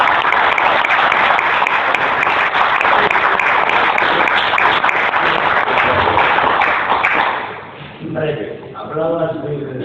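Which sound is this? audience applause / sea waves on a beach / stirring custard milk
audience applause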